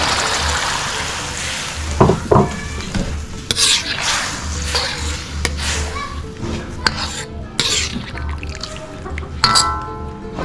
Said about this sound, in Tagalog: At ilalagay na natin yung pinagkuluan ng pusit kanina, yung may Sprite